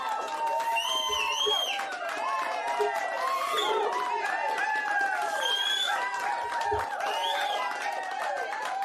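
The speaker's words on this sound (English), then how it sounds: "Little applause first." Clapping at a live Fire & Ice Experience event mixes with loud cheering and whooping voices from the crowd, steady and close throughout.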